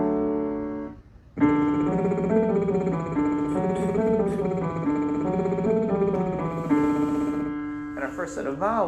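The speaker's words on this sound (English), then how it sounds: "If this is unfamiliar, start it with a lip trill." A sung vocal warm-up, a lip trill carried along an arpeggio pattern with a scale attached, heard as a steady buzzing pitched voice rising and falling through the notes, loud and close over a sustained keyboard-like accompaniment.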